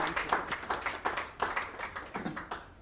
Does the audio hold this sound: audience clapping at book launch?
yes